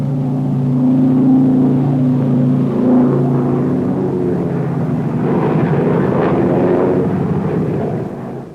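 World War II aircraft attack ships off Okinawa, a loud, continuous engine roar and rumble with a dense, blasting texture that holds steady for several seconds before easing off at the end.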